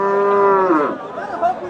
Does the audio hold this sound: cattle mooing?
yes